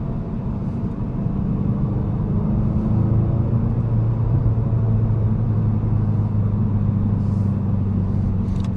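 Volkswagen Golf GTI 380 cruising on the Autobahn, a steady low engine and road rumble from inside the cabin, even and sustained.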